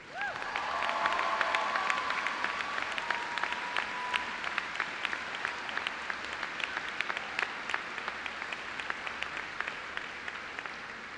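Steady audience applause for award recipients at a 2018 high school commencement ceremony, a sustained crowd of clapping hands with a brief whistle near the start, holding even and fairly distant throughout.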